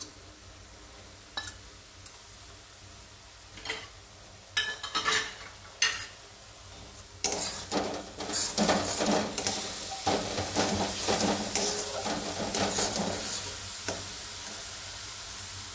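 Ground cumin and coriander fry in a pan for a vegetarian baby-potato curry. A few sharp scrapes of stirring give way to a dense, crackling sizzle broken by repeated spatula strokes, up close and without voices.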